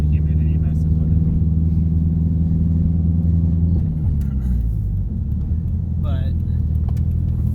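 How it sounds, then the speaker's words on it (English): A car with an Exedy twin ceramic clutch and a new ETS intercooler drives with a steady loud engine drone and rumble heard from inside, the pitch dropping as it shifts, while someone talks over it. "This is the first drive with the new ETS intercooler on it."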